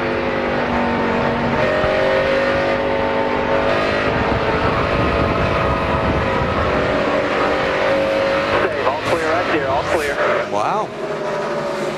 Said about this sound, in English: even hear the tires squealing even over the race engine